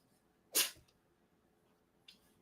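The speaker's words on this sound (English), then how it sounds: "Well, now you sneezing" A dog gives one sharp, close sneeze, followed a moment later by a softer snort in an otherwise quiet room.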